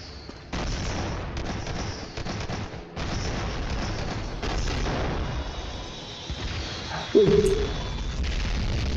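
Bombs and gunfire go off in a Skibidi Toilet video game: dense bursts of booming blasts and rattling shots come in several long waves with short gaps, ending in a sharper, louder hit.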